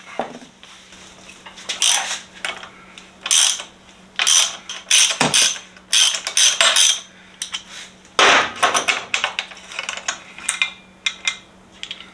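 A ratchet wrench with a 12mm socket loosens the large center stand bolts on a Yamaha FJ-09 Tracer motorcycle, giving close, loud bursts of rapid clicking with metallic clinks between them, and no talking.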